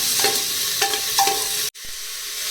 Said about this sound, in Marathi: तर या कांद्याला आपण छान असं परतून घेणार आहोत.